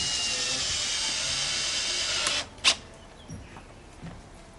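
A power driver sinking screws into square-edge timber for a 70mm log cabin window frame, a whining drive that cuts off sharply, followed by a brief high burst and a few faint knocks.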